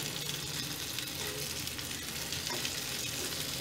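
Chicken tikka sizzles steadily in a hot grill pan, a dense, continuous crackling fry heard up close with no talking.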